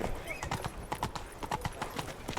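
Roach, a horse in The Witcher 3: Blood and Wine, clip-clops at a quick, even gait in a rhythmic series of hoof strikes, with game speech layered over the top.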